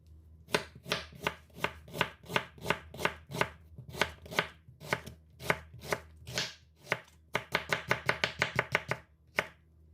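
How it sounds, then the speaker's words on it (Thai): A knife dices an onion into small cubes on a cutting board while chicken samosa filling is prepared. The chops land close and crisp in a quick, steady rhythm, with a short pause partway through, and no one speaks. "เราก็จะมาหั่นหอมใหญ่ ทันให้เป็นลูกเต๋าเล็กๆนะคะ"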